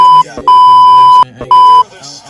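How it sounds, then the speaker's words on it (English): Electronic buzzer-like tones at the end of an NBA basketball game: three loud, steady beeps of varying length, the middle one longest, sounding close and clear with brief gaps between them. "There's the buzzer."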